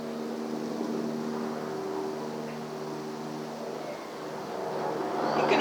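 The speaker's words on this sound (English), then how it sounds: "Sounds like we have a helicopter going by." A helicopter passes outside a hatha yoga class, a distant, steady humming drone that grows slightly louder toward the end, with no one speaking.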